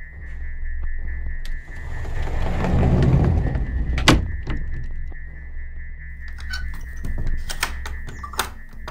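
A closet door swings and shuts in a dark radio-style drama, with a rising rustle and scrape before a sharp knock near the middle, followed by a few clicks and rattles against a steady electronic hum.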